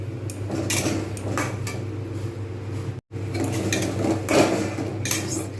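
Bhindi stirred in a pan over a low gas flame, with clinking spoon-on-metal taps and scraping strokes over a steady low hum, close and moderate, one brief cut midway.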